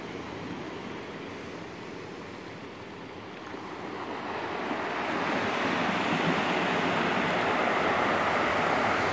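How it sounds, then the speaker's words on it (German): Loud ocean surf on the coast of Santiago roars continuously, a broad wash of crashing waves that swells and grows even louder midway through, with no voices. "da die Wellen hier so laut sind oder das Meer"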